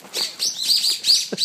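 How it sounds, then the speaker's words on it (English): Small birds startled outdoors on a fishing outing give a quick flurry of bright, high chirps and tweets, fairly close and continuous for a moment, with no one talking over them. "Sorry, birds, I scared the birds."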